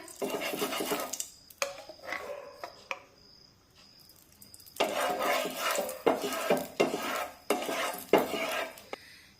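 Oil poured into a pan heating on a gas stove and spread across it before poha dhirde batter goes in; close clattery scraping bursts with a quieter pause midway and no talking.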